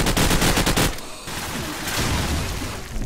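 Call of Duty 4 gunfire during a 5v5 LAN promod match: a loud, rapid automatic burst, a brief pause, then more sustained shooting, close and dominant with no talking.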